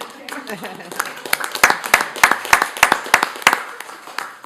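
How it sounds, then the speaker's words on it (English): A meeting audience claps at a governing board session after a presentation ends, with sharp, uneven individual claps building and then thinning out over a few seconds, and a voice talks beneath them. "You can clap."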